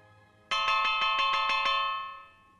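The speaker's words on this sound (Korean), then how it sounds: "회의 시작을 알리는 종이 울리고" A single bell rings to open a meeting of forest animals: one bright, ringing strike followed by several quick repeated clangs, then a sustained metallic tone that fades away, loud and close with no voices.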